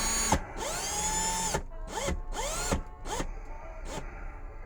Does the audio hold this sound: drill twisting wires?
yes